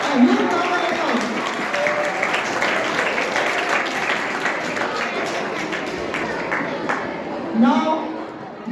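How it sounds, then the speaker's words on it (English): A school audience at an inter-house quiz competition claps in a sustained, even round of applause lasting the whole stretch, with voices mixed in beneath the clapping. "Let us give a huge round of applause."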